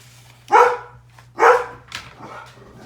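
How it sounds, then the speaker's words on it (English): A dog barks twice sharply nearby, then gives a softer third bark, over a low steady hum in an indoor room. "I have to help the dogs with something here."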